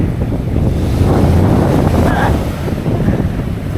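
Ocean surf breaks on a beach in a steady, loud, full roar, with wind buffeting the microphone throughout and no clear voices.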